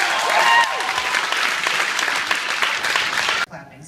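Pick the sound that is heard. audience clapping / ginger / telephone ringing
audience clapping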